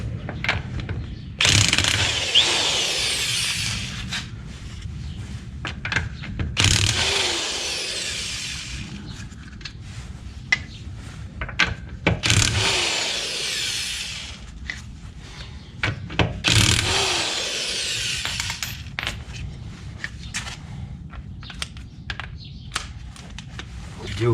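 Tools loosening the lug nuts to remove a rear wheel from a Hyundai Tucson, bursts of loud mechanical whirring and ratcheting separated by clanks and handling noises, close by.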